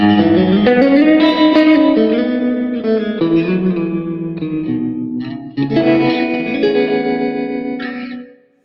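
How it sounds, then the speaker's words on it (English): An electric guitar played through a VOX amplifier with reverb drifts through a slow, spacey solo, sustained notes and chords ringing with washy echo, loud and alone, before cutting off at the end. "if I turn the reverb back up and I play what I was playing when the stream started, that sort of more spacey solo type playing"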